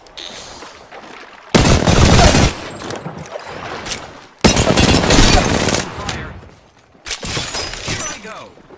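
Gunfire strikes the player in a video game in three loud bursts of rapid crackling impacts and shattering noise, each lasting a second or two, with quieter gaps between.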